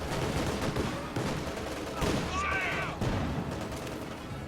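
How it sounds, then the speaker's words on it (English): An anti-tank gun firing on light vehicles in the real-time strategy game Company of Heroes 2, its sharp reports punching through a dense wash of battle noise, small-arms fire and a dull rumble. "there's an AT gun on the field firing on these light vehicles"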